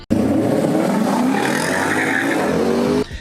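A V8 engine revs hard and steadily, a loud continuous roar holding high revs for about three seconds before cutting off abruptly.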